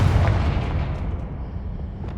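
A Confringo fire-blast spell in Hogwarts Legacy erupts as one loud, booming explosion, its deep rumble decaying slowly across a couple of seconds.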